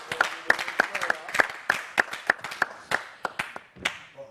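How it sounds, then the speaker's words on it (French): Studio audience on a talk show set clapping for an arriving guest, a handful of close, crisp claps in a quick, fairly regular rhythm that loosens toward the end, with faint talk underneath. "Sur le plateau, on applaudit pour lui."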